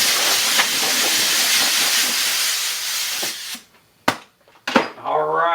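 Steady, loud, hissing abrasive sanding takes the burrs off a no-cord-twist disc for a few seconds, then stops; after a short pause a voice speaks.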